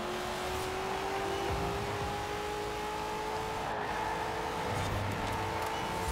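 A BMW racing in Forza Horizon 4 drones with a steady engine tone that rises slowly as it holds speed, loud and continuous for the whole stretch, with no talk over it.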